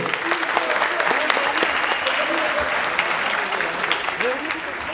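Audience of students and guests at a municipal event in Ataşehir applauds, continuous full clapping with a faint voice speaking underneath.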